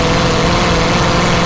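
Demolition derby car engine held at high revs through a very high rear gear at a county fair, a loud continuous dense roar with no pauses, close and unbroken for the whole short stretch.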